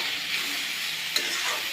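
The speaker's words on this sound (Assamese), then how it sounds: "ভালদৰে ভাজি লৈ আছোঁ" Boiled potatoes frying in a pan, a steady close sizzle with a soft hiss throughout and one brief sharper crackle near the end.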